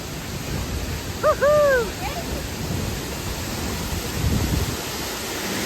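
A hidden waterfall in Suringgad pours fast-flowing water, a steady broadband roar close by, with a short bright bird call rising above it early on.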